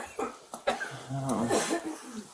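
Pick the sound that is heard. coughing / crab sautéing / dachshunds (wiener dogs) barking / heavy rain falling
coughing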